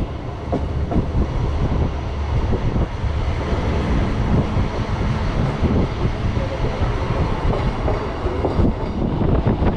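Regional train running on a small branch line from Olomouc to Krnov, heard from inside as a steady loud rumble with rhythmic clickety-clack of wheels over rail joints and some wind noise throughout.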